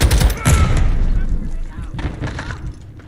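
Loud, close gunfire and booms in Call of Duty Modern Warfare II (2022) on Xbox, heavy at the start and then thinning into scattered shots, with voices talking over the fighting.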